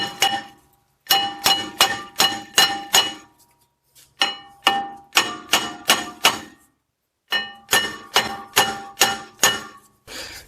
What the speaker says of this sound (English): Sometimes these will come off, and other times you got to hit them a little bit here to get them to pop off.